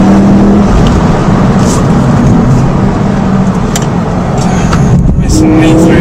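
A Renault Clio Williams engine roars loudly and steadily throughout, its tone shifting as it revs, with a few brief higher whines on top.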